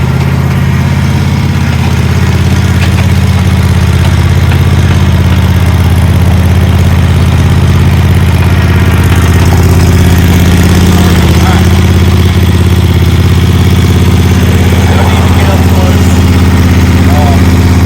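A commercial walk-behind zero-turn mower engine runs steadily and loudly close by, its even droning hum unbroken throughout while a voice talks over it.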